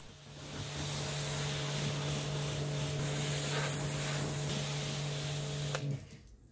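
A jet washer sprays water across a car bonnet, rinsing off a ceramic wax reset and soap in a steady, loud hiss with an underlying motor hum that runs for about six seconds before cutting off abruptly.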